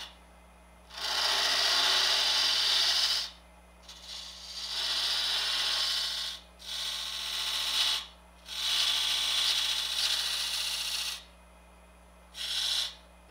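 A negative rake scraper smoothing a wooden bottle turned from a branch, giving long steady hissing scrapes in several passes with short pauses between them, close up over a constant low hum.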